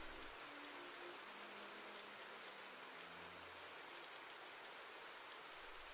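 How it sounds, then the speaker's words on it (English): Rain trickles down shop front windows as a steady, soft, even hiss with a faint crackle, constant and unbroken throughout. "which is trickling down the store front windows with a rushing, crackling sound"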